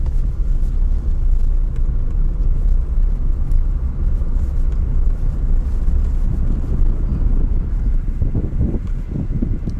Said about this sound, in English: Having some bumpy ride.